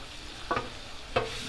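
Butter pats hitting a hot griddle beside seared pork belly give a low, steady background sizzle with two brief, brighter bursts as each pat lands, alone without talk.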